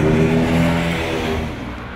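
KTM 1190 Adventure R big adventure motorcycle engine accelerating hard, a loud, close, rising harmonic roar that holds steady and tapers slightly toward the end, with no talk.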